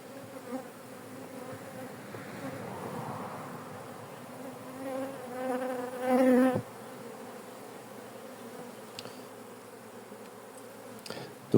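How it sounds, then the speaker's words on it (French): Honeybees from a crowded, swarm-prone hive hum steadily around the opened box, the buzzing swelling as bees fly close past the listener, then settling back to a continuous drone. "Alors les abeilles volent et viennent un peu vers moi dès le début de la visite"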